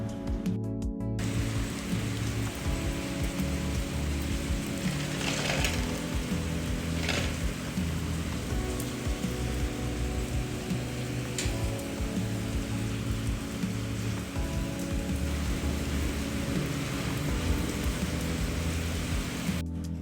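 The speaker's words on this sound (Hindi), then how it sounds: "इतनी तेज़ बारिश हो रही थी, तो मैंने सोचा कि ये भी रिकॉर्ड कर लूँ।" Heavy rain pours at night in a village in a steady, dense hiss, with faint distant rumbles of thunder underneath and no voices.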